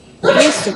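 A single loud, close sneeze bursts out sharply and fades within a fraction of a second, heard in a classroom setting during a statistics lesson.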